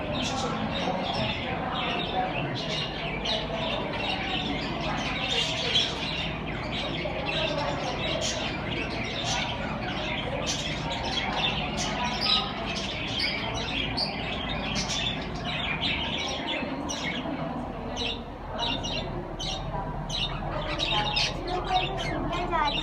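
Parrots kept at a decorated school event chirp and call continuously, dense overlapping tweets and squawks over a busy crowd murmur, with people talking nearby throughout.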